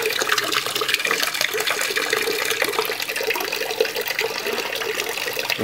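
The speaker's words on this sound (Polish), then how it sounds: "Może być troszkę głośnawo, jak ta woda zacznie zasuwać." Aquarium filter running with water rushing loudly and steadily, a dense continuous splashing wash with no pauses.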